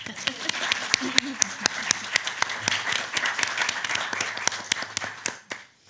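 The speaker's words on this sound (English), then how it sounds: "We can give him a round of applause." Audience applause for a panelist at a conference, a moderate crowd clapping with distinct individual claps standing out, close and steady before tapering off near the end.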